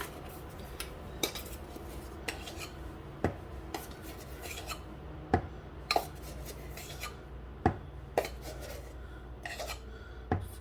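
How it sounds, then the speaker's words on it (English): Metal teaspoons clinking and scraping against a container while measuring baking powder for alligator-themed birthday cake batter, with a series of sharp, irregular taps and soft rasping scoops, close and fairly quiet, without talk. "We are doing 6 teaspoons of baking powder."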